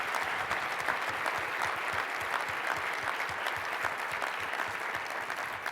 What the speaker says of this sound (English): Would you give him a round of applause?